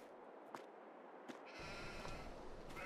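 Sheep in the farming game Farming Simulator 22 give a few faint, brief bleats over a quiet background, after which a steady low hum of machinery or ambience comes in. No one speaks.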